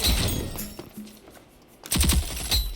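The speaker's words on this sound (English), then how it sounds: "I recommend using his SMG, because this thing is nasty. I mean, it just melts people." SMG gunfire in the shooter video game Rogue Company, with rapid bursts of automatic fire near the start and a louder flurry of shots late in the clip, separated by a quieter gap.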